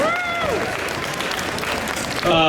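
Audience at a Comic Con panel with Buffy the Vampire Slayer cast members applauds steadily in a crowded hall, a dense clapping wash with a voice speaking over the start and end.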